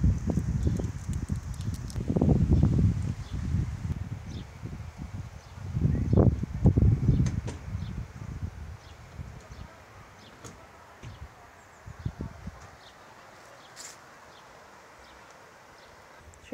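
An outdoor breeze buffets the microphone in a few strong, low rumbling gusts that swell and fade, with quieter rustling and faint background sounds between them.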